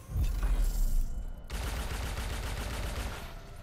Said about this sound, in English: Bit of controlled firing.